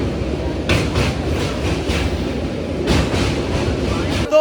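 Rumble of a train at Dhanbad railway station, steady low rolling noise with a few brief metallic clanks and bursts of hiss, heard up close and continuous throughout.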